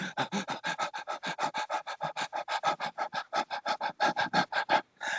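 A man imitates a dog panting: a rapid, steady run of about thirty short, breathy huffs, close and clear with no talking, ending in a brief pause before one last breath.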